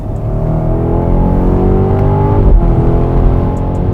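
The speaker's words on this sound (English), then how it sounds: "I feel like you can hear that roar of that engine" A BMW X7 M60i twin-turbo V8 fitted with a full carbon intake roars steadily and loudly, a deep continuous engine drone with a brief dip in the middle before it pulls on strongly.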